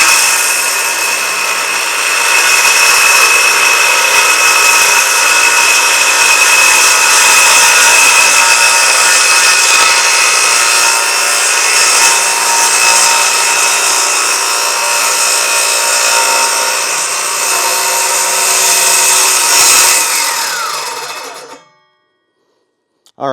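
Ryobi P508 cordless circular saw cutting through wood, a loud, steady high-pitched whine held for about twenty seconds before the blade stops abruptly and the sound cuts out.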